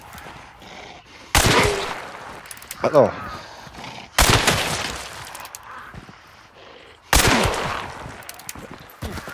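Three loud, sharp gunshots ring out in Hunt: Showdown, spaced a few seconds apart, each with a ringing tail. A player talks excitedly between them.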